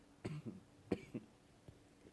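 A person coughs several times in short separate bursts, a brief throat-clearing sound among them, in a quiet room with nobody speaking.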